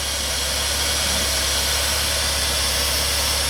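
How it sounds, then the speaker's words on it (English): A Ford Taurus engine idles after a fuel filter replacement, giving a steady, loud, broadband hum with a constant low rumble and no speech. "Engine sounds good."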